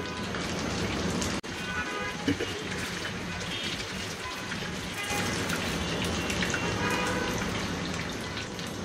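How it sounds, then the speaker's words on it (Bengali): Flour dough balls shallow frying in oil, a steady dense sizzle and crackle throughout, close and continuous with a brief clink partway through. "একটু জাস্ট বাদামি করে ভাজা, আর কোনো কিছু না। ডুবাতে দরকার নাই, শ্যালো ফ্রাই হলেই হবে।"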